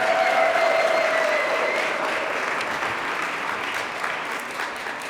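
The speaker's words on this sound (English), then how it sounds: "Can you all give them a nice warm round of applause?" A warm round of applause from a crowd at a Black History Month reception, loud and dense at first and easing slightly as it continues, with no speech over it.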